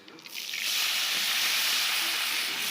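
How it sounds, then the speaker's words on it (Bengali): Onions drop into hot oil in a kadai still hot from frying fish, and a loud hissing sizzle surges up within half a second and then holds steady and close. "এবার আমি ওই তেলের মধ্যেই কড়াইতে পেঁয়াজ দিয়ে দিব।"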